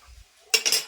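A metal lid clanks down onto a cooking pot in a home kitchen where chana dal is being cooked: a short, bright double clink that rings briefly, heard close up after a faint low thump.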